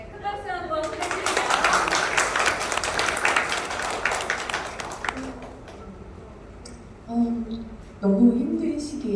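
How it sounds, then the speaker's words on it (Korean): An audience at a Korean reading event breaks into loud applause that builds quickly and fades after a few seconds, followed by a speaker talking into the room. "큰 박수 한번 부탁드립니다."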